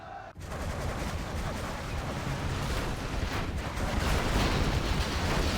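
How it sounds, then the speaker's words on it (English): AK-47 gunfire from an angry mob in a competitive World Series 2023 video game match, dense rattling bursts merged into a continuous rough roar heard at a distance behind game ambience. "You can hear an angry mob with AK-47 somewhere."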